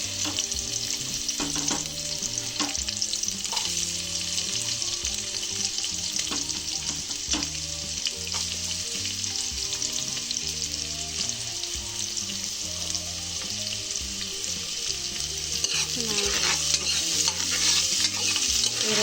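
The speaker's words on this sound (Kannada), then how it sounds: "ಸ್ವಲ್ಪ ಎಣ್ಣೆ ಕಾಯಿದ ಮೇಲೆ ಬಿಸಿ ಆದಮೇಲೆ ಈರುಳ್ಳಿ ಹಾಕೊತಾ ಇದ್ದೀನಿ" Onions frying in hot oil for a chicken dish, a continuous loud sizzle with frequent spatula scrapes and stirring clinks throughout.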